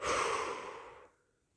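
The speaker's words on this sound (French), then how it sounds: "souffler fortement par la bouche pour vous dynamiser" A strong exhale forced out through the mouth during a relaxation breathing exercise, one breathy rush that starts loud and fades out within about a second, close and alone.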